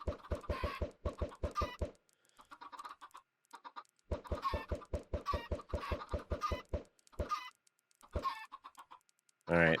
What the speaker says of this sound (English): So we got, what, like 20 chickens in here?